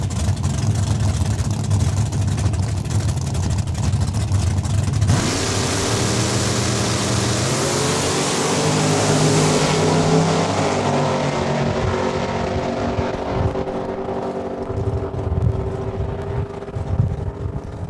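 A 1978 Camaro and a Hemi Dart roar down a drag strip in Saskatoon, loud engines howling at full throttle and then fading as the cars pull away into the distance.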